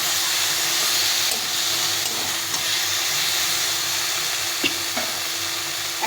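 Cut okra sizzles in a pan with cooked spices, a constant close hiss broken by a few faint scrapes and taps from stirring.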